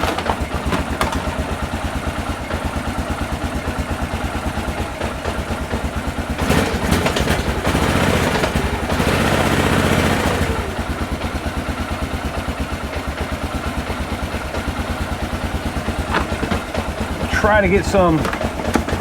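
A 2001 Honda Rincon ATV engine idles steadily after carburetor adjustment, a close, even putter running throughout with a brief rise in revs midway, while someone talks over it.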